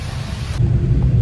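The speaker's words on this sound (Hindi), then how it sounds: "बहुत ज़्यादा बारिश हो गई है और पूरे रोड पे पानी भर चुका है" Heavy rain pours onto a flooded road, a dense, loud roar that deepens into a low thunder-like rumble partway through, with no voices.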